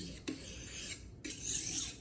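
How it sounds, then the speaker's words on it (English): Steel filet knife blade drawn across a hard sharpening stone, giving repeated gritty rasping strokes with short pauses between them, close and quiet, with no voices. "the sound of the blade touching the surface of the hard stone."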